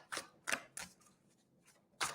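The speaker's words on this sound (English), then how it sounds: "Giving them a good shuffle." Tarot cards being shuffled by hand during a live reading, five or six quiet, crisp riffling bursts spaced irregularly, heard up close and faint with no talking.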